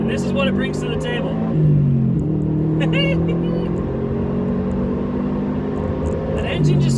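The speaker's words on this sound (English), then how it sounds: "That engine just feels so good. Like, it's got so much character, and it growls at you" Subaru WRX STI engine giving a low, growling rumble with rising revs and a steady droning tone across the clip, loud and close, with the pitch shifting up and down as the throttle changes.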